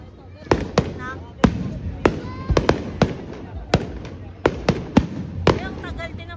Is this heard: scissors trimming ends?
no